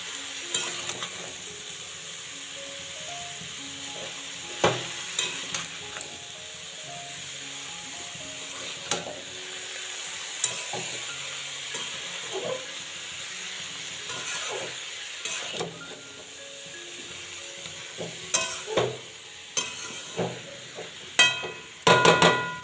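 Salted cabbage frying in a pan, a low steady sizzle under repeated stirring scrapes and knocks of a utensil on metal, growing busier with louder clatter near the end, no speech.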